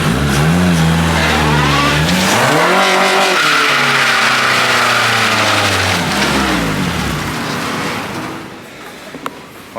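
EG hatchback engine revving hard in reverse, loud and close, pitch climbing, dipping and rising again before fading, with a brief tire squeal near the end.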